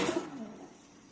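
A young home-bred Golla pigeon gives a soft, low coo, brief and fairly quiet, fading into faint background hiss.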